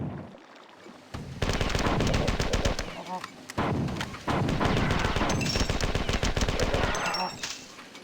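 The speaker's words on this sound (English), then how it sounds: "If you kill them with a machine gun, they just die." Sustained machine gun fire in the first-person shooter Marathon 2: Durandal, loud rapid continuous bursts with brief gaps between, plus occasional electronic game effects over the steady rattle.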